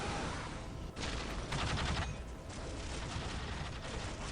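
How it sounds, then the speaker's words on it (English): Gunfire in Warhammer 40,000 Dawn of War, a dense, continuous battle din of rapid shots and bursts layered over constant combat noise. "Taking heavy fire."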